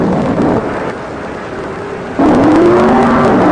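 Drag racing cars, Don Prudhomme's Hot Wheels Special against the American Express, roar loudly down the track, a dense engine rumble that surges louder partway through with a rising whine.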